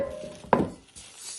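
A 28 cm frying pan is handled, giving one brief metallic clank in the middle of an otherwise quiet moment.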